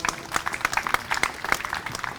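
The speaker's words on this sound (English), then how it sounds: "give her a big round of applause" A crowd gives a warm round of applause for Marcy Frosch at a municipal Fourth of July gathering in Takoma Park, a dense, lively clatter of many hands clapping throughout.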